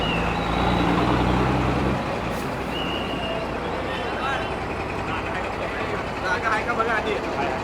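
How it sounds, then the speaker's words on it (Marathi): A state transport bus pulls out of Solapur bus station with a low, heavy diesel rumble that eases after the first moments and then holds steady, heard from inside while people talk. "आता गाडी निघाली आहे सोलापूरच्या बस स्थानकामधून"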